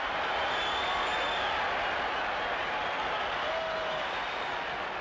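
Vast crowd of nearly 66,000 fans applauding and cheering at a packed World Series Game 6 in 1980 Philadelphia, a dense, steady roar of clapping and voices filling the whole stretch without a break.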